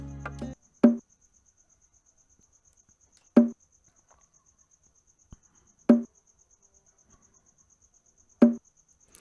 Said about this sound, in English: It's a bongo drum, right? So this is how it sounds like.